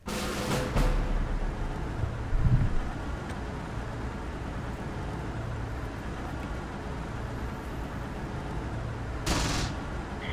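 Gunfire in Close Combat The Bloody First, a WWII battle among bocage hedgerows and a farm area: scattered shot bursts at the start, middle and end, fairly distant, over a steady low battlefield rumble, with no talk.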